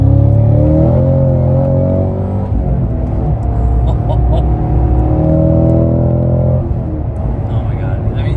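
A 2022 Cadillac CT5-V Blackwing accelerating hard through the gears, a loud close engine roar with rising pitch sweeps and a brief dip at a shift, with a person talking over it inside the car.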